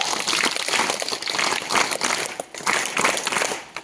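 A crowd at a Maha Aarti gathering gives a welcome round of applause, many hands clapping densely and continuously, with a brief dip before the clapping picks up again.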